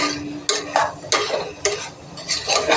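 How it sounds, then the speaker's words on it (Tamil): Chicken with masala powder sautéed in a pan: several sharp spatula scrapes and stirring strokes land every half second or so over a soft, steady sizzle, close and clear. "இப்போ நல்லா வதக்கி விட்டுறலாம்."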